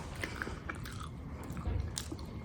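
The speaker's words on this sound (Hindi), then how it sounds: "तो ये रात के आलू के पराठे थे, उसको गर्म किया और खा रही हूँ।" Someone chews a reheated leftover aloo paratha from the night before, with soft close bites and mouth sounds at an irregular pace, quiet and with no talking.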